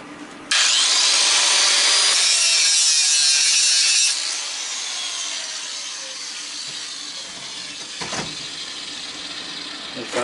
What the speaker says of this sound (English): I'm going to hit this with the grinder real quick.